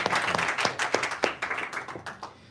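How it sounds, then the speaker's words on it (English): A small audience claps for women entrepreneurs of OMPEG UK, individual claps audible in an uneven patter that is fairly faint and fades out. "So a big round of applause for all of them."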